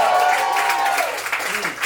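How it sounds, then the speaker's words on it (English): Audience at a comedy show claps and cheers in a steady, dense wash of applause that fills the whole short stretch without letting up. "Hold for applause."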